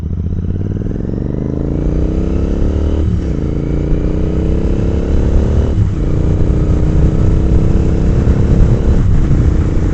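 Royal Enfield Continental GT 650 motorcycle with a changed exhaust pulling away from a slow start, its engine note rising steadily through the gears with brief dips at each shift, loud and close throughout.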